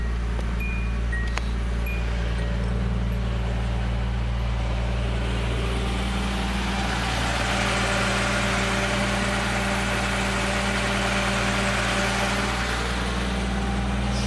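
A Datsun 280ZX with an aftermarket catback exhaust idles steadily right after starting, a constant low engine drone with a smooth, unbroken rumble and no talking over it.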